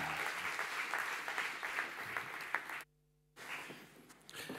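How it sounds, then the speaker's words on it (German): A lecture audience applauds Professor Cary Steinmann at an event introduction, a fairly quiet continuous patter of clapping that cuts out abruptly for half a second before resuming. "herzlichen Applaus an Professor Dr."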